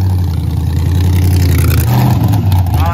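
A Chevrolet Blazer's engine revs hard and steady in a burnout attempt while stuck in second gear, a loud, close, continuous roar with slight rises and dips in pitch.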